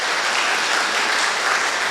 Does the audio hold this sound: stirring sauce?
no